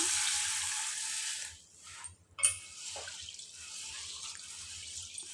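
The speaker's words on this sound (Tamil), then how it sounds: "அதை ஒரு பாத்திரத்தில் சேர்த்து கழுவி ஊற வச்சிடலாம்" Running water splashes and gurgles steadily as white sorghum grain is rinsed in a pot, with a brief pause and a small clatter midway.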